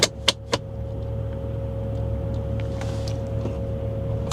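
A salvaged Bentley Flying Spur with a misfiring engine is shifted into gear after a couple of sharp clunks, then its engine settles into a steady, smooth idle hum as it starts to creep along, close and moderately loud.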